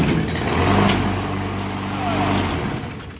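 An old lawn mower with a freshly cleaned air filter fires up on top of a trailer and settles into a steady running drone, its low engine hum rising and falling slightly throughout.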